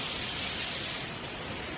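The Jogini waterfall in the Himalayas of Himachal Pradesh roars with a steady, even rush of falling water. It sounds close and continuous, with no voices over it.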